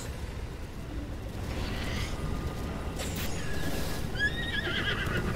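Horse in the video game Zelda Breath of the Wild, whinnying in a high, shaky neigh near the end over a low rumbling background, with faint hoof clip-clop and no talk.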